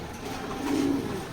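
A racing pigeon in a loft gives a soft, low coo that swells briefly in the middle of a short moment, close by and moderately loud.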